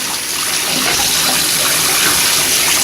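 Running water pours loudly and steadily while wool is rinsed, a close, dense rushing gush with no pauses and no voices over it.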